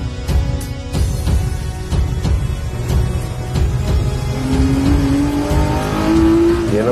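An old car's engine revs and climbs through the gears while driving, a loud close-up roar with rising pitch sweeps toward the end and a few sharp clicks early on, no voices.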